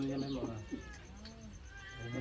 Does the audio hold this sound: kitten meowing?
yes